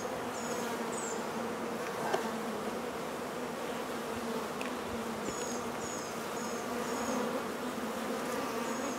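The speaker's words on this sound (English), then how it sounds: "this is such a strong hive, I just wanted to take a peek down here in the lower boxes" Honeybees from a strong hive preparing to swarm hum steadily and continuously, with individual bees whining past close by now and then over the dense, even drone of the colony.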